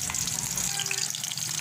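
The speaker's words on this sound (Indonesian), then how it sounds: "Seperti biasa, bawang kita goreng sampai layu." Onions fry in oil for sambal, a dense, continuous sizzle and crackle close by, with a faint stirring scrape under it.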